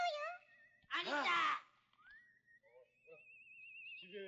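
A drawn-out, wavering whistle from an anime scene rises and holds a steady pitch, heard between bursts of speech and a brief noisy outburst.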